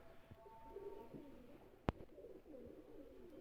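Soft, low pigeon cooing murmurs in the background over quiet ambience, interrupted once by a sharp, brief knock.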